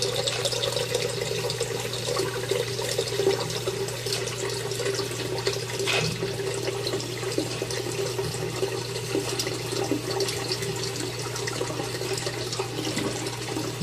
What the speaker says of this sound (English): we're going to let my sink fill up with the water